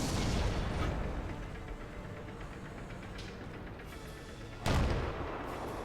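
Cannon fire from a T-34-85 tank in the World of Tanks video game: a heavy boom at the start and another loud blast near the end, with a few fainter pops between over a constant game background.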